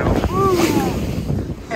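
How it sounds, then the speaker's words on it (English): A sailboat racing across Lake Ontario bashes its bow into waves, with a rushing wash of water and heavy wind buffeting that stay loud throughout, and a voice briefly over it. "you can maybe see here how the nose gets buried in some of these waves and give you an idea of what we're bashing into"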